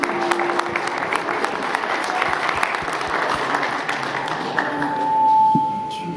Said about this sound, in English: I want a big round of applause for everybody on the stage